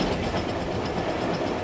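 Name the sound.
Stanier steam locomotive train running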